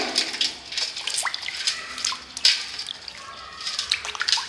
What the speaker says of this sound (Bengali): এবার পরিষ্কার জলে পাটাকে ধুয়ে নেব